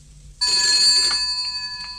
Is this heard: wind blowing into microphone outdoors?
no